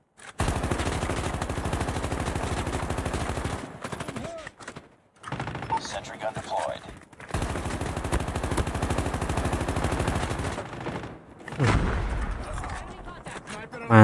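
Rapid automatic gunfire in a mobile shooter game, sustained loud bursts broken by brief pauses, with a sniper among the weapons; speech from players is faintly present.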